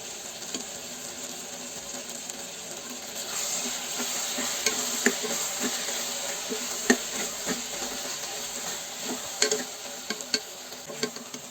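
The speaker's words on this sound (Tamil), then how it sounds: "தேவையான அளவு உப்பும் ஒன்றரை ஸ்பூன் சாம்பார் பொடியும் சேர்த்து வதக்கிக்கோங்க" Eggplant sautéed with salt and sambar powder in a pan gives a steady, soft sizzle, with recurring spoon-stirring scrapes and taps close by and no talking.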